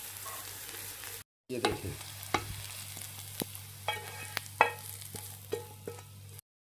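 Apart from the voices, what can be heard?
minced mutton kebabs frying in a pan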